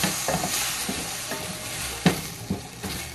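Boiled chickpeas tipped into cumin in hot oil, frying with a constant hiss and a few scattered stirring scrapes and knocks, close and fairly loud.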